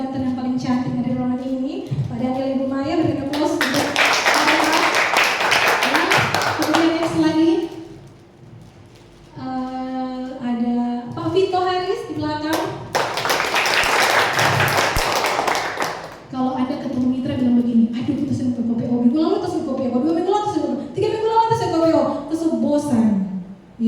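An audience at a business partnership event breaks into two loud bursts of clapping, each lasting several seconds, between stretches of a speaker's amplified talk and background music.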